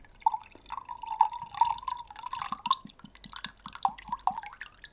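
A drink is poured out of a can, giving soft, close trickling and dripping with small liquid gurgles and light clinks at a quiet level.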